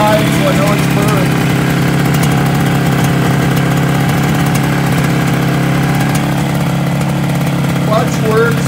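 A Yamaha RD350 two-stroke motorcycle engine idling, a continuous buzzing mid-pitched rattle held close and loud for several seconds, with faint scattered squeaky sounds over it.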